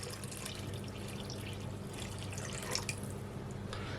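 Water pours steadily into a bowl of lemon cake batter, a continuous close splashing trickle running without pause and alone.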